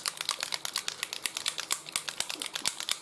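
A mixing ball rattles inside a shaken Ammo Mig paint bottle, giving a fast, steady run of close, crisp clicks that keeps going the whole time, with no talking.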